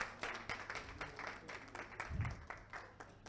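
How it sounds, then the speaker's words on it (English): Audience at a counseling gathering clapping in scattered, uneven bursts, fairly faint and somewhat distant, with brief murmurs among the claps. "Oh, clap for them."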